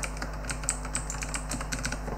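Someone types a name on a computer keyboard, producing a quick, steady run of crisp key clicks close to the microphone with no talking.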